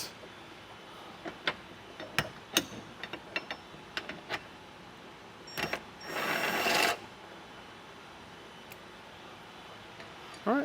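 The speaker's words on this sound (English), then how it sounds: "Now we're going to remove our bolts right here from our hinges." Bolts being removed from Jeep Wrangler tailgate hinges, a scattered series of sharp metallic clicks and ratchet ticks, then a short buzzing burst of a power tool, close and otherwise quiet.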